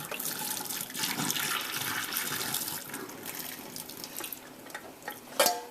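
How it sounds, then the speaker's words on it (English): Water is poured off a pot of boiled salted cod into a sink. A continuous splashing pour runs close by, ending in a brief louder clatter. "what I'm going to do is drain that water out completely"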